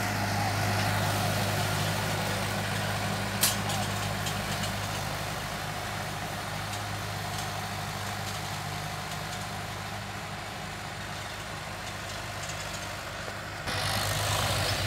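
A 2019 Farmtrac 6055 tractor idles steadily at close range, its low, even engine drone continuing unchanged, with one brief click partway through and a slight shift in tone near the end.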